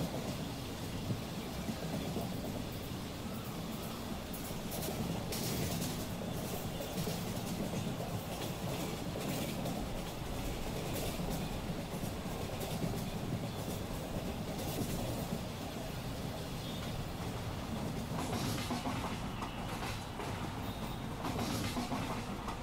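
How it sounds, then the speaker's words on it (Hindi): Churchgate–Borivali slow local train passing through Khar Road station in Mumbai, a steady loud rumble of wheels and carriages with rattling clatter, continuous throughout with no voices. "church gate Borivali slow local में क्रॉस करके जा रही है कार रोड स्टेशन पे"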